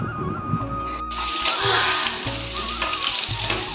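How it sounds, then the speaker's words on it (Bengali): Ash gourd curry with dried shrimp sizzles and fries steadily in a pan, a continuous loud crackle with occasional stirring clinks and no talking. "রান্না হচ্ছে চাল কুমড়ো ঘন্ট চিংড়ি শুটকি দিয়ে"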